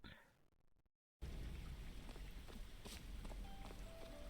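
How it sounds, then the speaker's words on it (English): Steady rain pours down in the wuxia farming game Immortal Life, a dense even hiss that starts abruptly after a brief silence and carries on with faint pattering and a few soft tones layered over it. "Still, I love that it's raining,"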